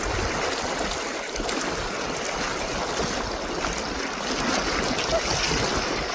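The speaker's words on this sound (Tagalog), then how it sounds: "So focus at medyo malakas na yung agos" A strong river current rushes around people wading across a river in Gabaldon, heard as a loud, steady, broadband roar of flowing water that stays unbroken throughout, with no speech.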